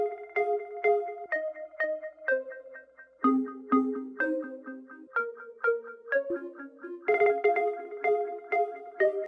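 A synth lead plays a melody of bright, plucky notes in a song mix, with harmony layers added on a synth bus, heard as a loud, clear sequence of short tonal notes in a steady rhythm, with no talk.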